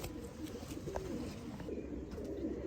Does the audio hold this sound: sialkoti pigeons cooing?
yes